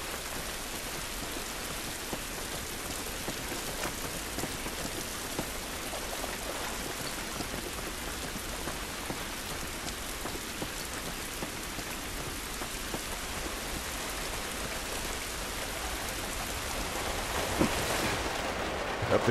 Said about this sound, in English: This rain ain't gonna do us any good.